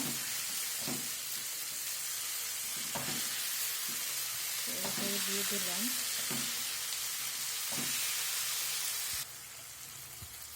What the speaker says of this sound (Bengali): পেঁয়াজগুলো একটু ভাজা হয়ে এসেছে